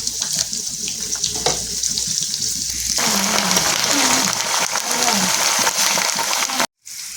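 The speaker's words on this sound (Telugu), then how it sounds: "ఎండుమిర్చి వేసుకోవాలి తాలింపులో." Hot tempering oil bursts into a loud, steady sizzle and crackle partway through as dried red chilies go in, continuing close up with a brief drop-out near the end.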